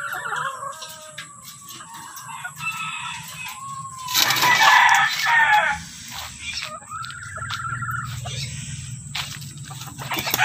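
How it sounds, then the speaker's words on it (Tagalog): Brood hens in a backyard chicken farm with battery cages give soft clucks and calls, with a louder burst of fowl noise midway and a rooster-like call, set against steady low farm background. "Ito yung mga brood hen nila."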